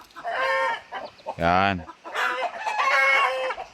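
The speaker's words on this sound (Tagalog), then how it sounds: "May alagang manok dito." Backyard chickens, including egg-laying hens, cluck and chatter at close range while a rooster lets out one loud crow midway, with a voice talking briefly around the birds.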